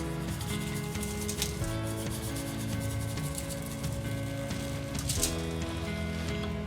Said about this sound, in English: hit it with our regular homemade barbecue rub that we've made